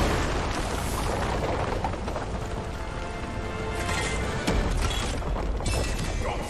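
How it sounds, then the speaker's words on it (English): Dying enemies burst in explosions during combat in Darksiders 3, a dense, continuous crashing rumble with layered booms and debris-like clatter, loud and close with no speech. "Whenever they die, make sure to get away because the explosion does damage to you."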